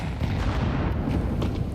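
Two grenades bursting in Counter-Strike, a loud rumbling boom that smears into a continuous low roar, with no talk.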